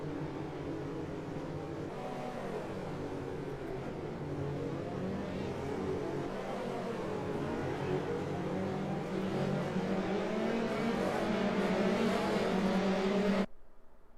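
A pack of Dallara F3 race cars roars around Zandvoort in iRacing, engines droning and revving continuously for several seconds with layered overlapping whines, building slightly louder before cutting off abruptly.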